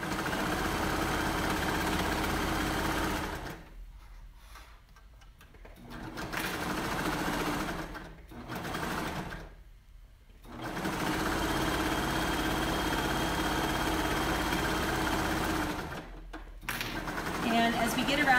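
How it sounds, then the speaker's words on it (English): A sewing machine stitches a pocket onto a women's cardigan in long, close, continuous runs separated by a few brief stops, with a voice talking over parts of it. "then we'll be sewing the pocket again, this time from the top down."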